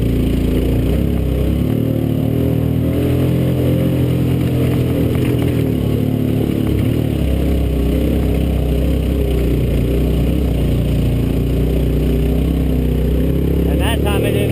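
Massimo MSU400 4x4 side-by-side engine held at full throttle on a creek run, a steady loud low drone that runs the whole time with rattling and clatter, and talk over it.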